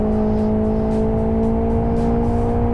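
Race car in the Live for Speed racing game, a steady loud engine drone with strong sustained tones as it downshifts and pulls back onto the throttle, no voices over it.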